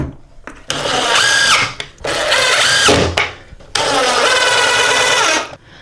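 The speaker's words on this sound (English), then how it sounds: "I've got this like right angle drill bit." A right-angle drill bores into an IKEA IVAR wooden shelf, three loud whirring bursts of motor noise separated by short pauses, close and alone.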